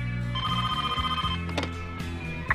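A telephone bell rings in a small-town setting, a continuous electric jangle heard over a low musical backing, with faint knocks near the end.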